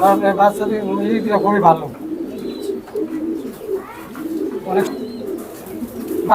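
Racing pigeons coo in low, rolling bursts nearby, with a person's voice speaking at the start and some fainter background chatter.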